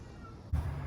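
A small house cat cries in the background, a short low meow that starts halfway through and holds steady against a quiet room hum, faint and somewhat distant.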